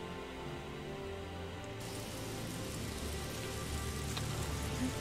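Steady rain falls in The Elder Scrolls IV: Oblivion, a dense even patter of drops that holds at a constant moderate level throughout, with no voices.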